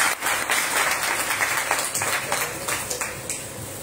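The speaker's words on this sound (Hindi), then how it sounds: "ताली बजाओ।" A crowd at a devotional Hare Krishna chanting program claps. The applause is loud, dense and continuous, with overlapping hand claps filling the whole stretch.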